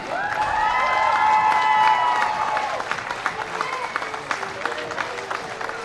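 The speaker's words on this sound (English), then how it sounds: "Yeah, there's the big cheer." A crowd cheers and applauds at a women's Scottish hockey plate final between Glasgow University and Kelburne, a loud burst of cheering and whistling that fades into scattered clapping and shouts.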